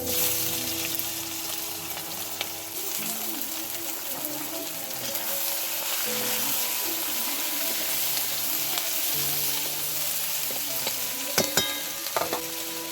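Sliced onions fry in hot spiced oil over a wood-fired clay stove in a village kitchen, giving a dense, steady sizzle with occasional stirring scrapes and clatter near the end.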